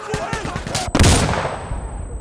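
Shotgun blasts in Insurgency Sandstorm (TOZ shotgun), a dense burst of sharp, loud close reports with a sudden booming shot near the one-second mark, followed by a decaying ringing tail under game noise.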